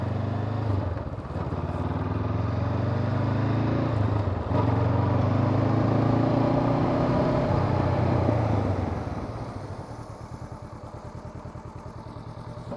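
A motorcycle rides a slalom practice course on a training lot, its engine note rising and falling steadily for several seconds before easing off and fading to a quieter idle-like hum.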